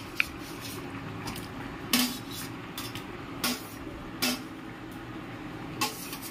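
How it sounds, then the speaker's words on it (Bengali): Fried fish dropped into a pot of potato curry for chotpoti with shrimp, heard as a few separate near clinks and knocks of utensil on metal spread across the stretch over a faint background hum, no talk. "ভেজে রাখা মাছগুলো দিয়ে দিলাম"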